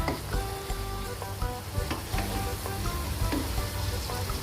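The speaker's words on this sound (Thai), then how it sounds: "แล้วก็ผัดไปเรื่อยๆผัดไป ผัดไปแป๊บหนึ่งนะคะ" Eggplant and minced pork sizzle and crackle steadily in a hot pan as they are stir-fried, with a continuous frying hiss and occasional scraping of the spatula, close and fairly loud.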